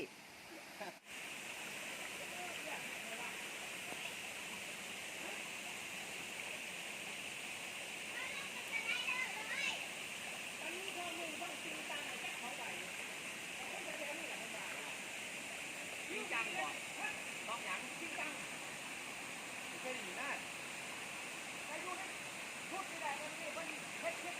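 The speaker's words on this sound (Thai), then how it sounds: "ถึงแล้วน้ำตกส่วนตัว" A private waterfall at Huai Tat, Ban Pao, rushing with a steady, close, full roar of falling water throughout, while people call out and talk faintly over it.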